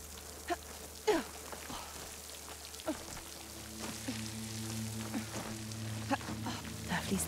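Water flowing and trickling into a stone wall beside a waterfall in Horizon Forbidden West, a steady splashing wash with small drips and spatters and a low ambient hum underneath, with someone speaking faintly at times.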